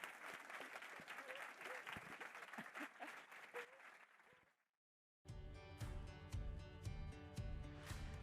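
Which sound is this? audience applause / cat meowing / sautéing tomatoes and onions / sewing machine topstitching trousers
audience applause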